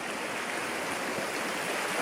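A Dartmoor stream rushes steadily, a dense broadband wash of flowing water filling the whole stretch without pause and with no voices over it.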